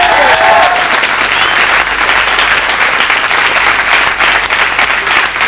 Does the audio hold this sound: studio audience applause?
yes